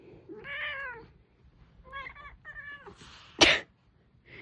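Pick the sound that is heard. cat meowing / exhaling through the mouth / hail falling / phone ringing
cat meowing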